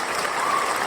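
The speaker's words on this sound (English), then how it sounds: "let me hit that round of applause one time" A recorded round of applause plays as a short sound effect, steady, dense clapping at even volume with no voices on top.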